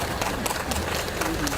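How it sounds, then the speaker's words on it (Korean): A crowd at a political rally claps together in a dense, steady patter of many hands, heard briefly and evenly throughout. "예, 서로에게 박수 쳐도 좋아요."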